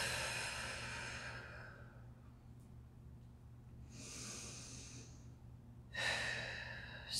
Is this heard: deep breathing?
yes